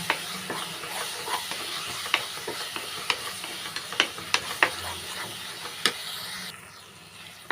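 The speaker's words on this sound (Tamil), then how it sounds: "நல்லா மிக்ஸ் பண்ணிட்டுக்கிறேன்" Banana sweet stuffing, salted, stirred in a pan, with a series of sharp spoon scrapes and taps over a steady low sizzle, the strokes coming at irregular intervals before the sound eases off.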